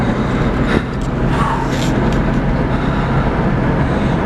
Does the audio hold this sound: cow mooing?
no